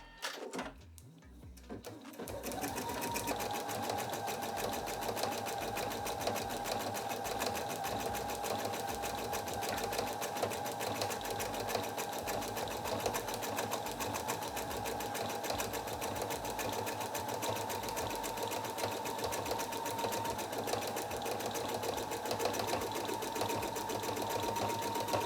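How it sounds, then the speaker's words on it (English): Embroidery machine stitching a design onto a custom blanket runs steadily throughout with a fast, even mechanical whir and needle chatter, close and continuous, with a faint tonal hum rising above it. "I'm gonna go ahead and start the machine to let the design run."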